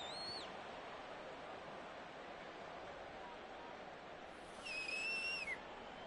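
Referee whistle blasts at a football game, two brief shrill tones: one at the very start and a longer one near the end, over a steady broadband crowd and stadium wash.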